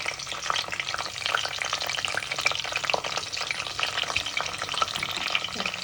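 Okra frying in oil inside a clay pot, the first step of a Tamil-style fish curry, gives a steady, dense sizzle with crackles and light stirring scrapes throughout, close and unbroken, with no talking.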